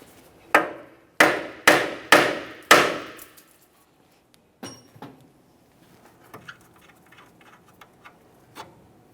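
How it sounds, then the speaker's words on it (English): Hammer tapping a steering knuckle on a 2010-2013 Kia Forte Koup to loosen the outer tie rod end, five sharp metallic knocks in a quick row, then fainter scattered taps and clinks. "lightly tap on the steering knuckle itself, causing vibration."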